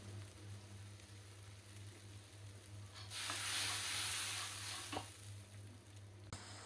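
Turmeric and chili powder masala fries and is stirred in a pan for a vegetarian dish, a soft low hiss that swells into a louder sizzle midway, then eases back with a faint clink near the end.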